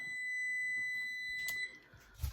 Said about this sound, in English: What that noise is my timer.